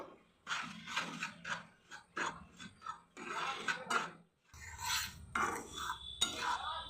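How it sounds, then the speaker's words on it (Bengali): Dry semolina being fried in a pan, stirred with a spatula: soft, gritty scraping strokes in irregular bursts, close and fairly quiet, with brief pauses. "সুজিটা আমি এখানে দিয়ে দিলাম, ভালো করে ভেজে নেব।"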